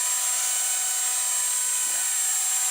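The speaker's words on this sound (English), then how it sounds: "this is your first actual collective pitch helicopter" An Ares Optim 300 CP brushless collective-pitch RC helicopter in flight gives off a constant high-pitched motor and rotor whine, loud and close, steady for the whole few seconds with no talking.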